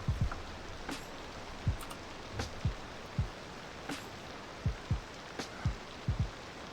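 Rain ambience in the city-builder game Cities: Skylines II, a steady soft patter with scattered low droplet taps recurring irregularly throughout, faint and continuous with no talk.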